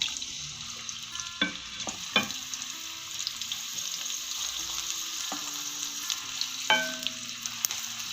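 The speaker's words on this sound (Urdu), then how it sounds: "پیاز کو میں لائٹ براؤن ہونے تک فرائی کروں گی" Onions frying in hot oil until light brown in a potato curry pan, with a constant crackling sizzle and several sharp clinks as a spoon stirs them, and no talking.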